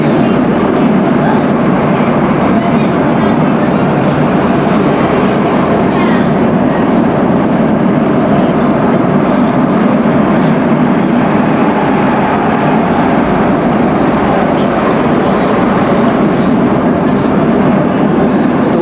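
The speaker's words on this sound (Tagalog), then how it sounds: "natsambahan namin yung 4th generation train" LRT-1 light rail train in the Philippines, a 4th generation car, riding along with a steady loud rumble and rail noise throughout, with faint passenger voices mixed in.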